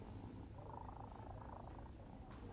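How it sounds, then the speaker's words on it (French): A cat curled up close purrs softly in a continuous low, rhythmic rumble, faint and steady throughout. "je me suis mise à ronronner doucement"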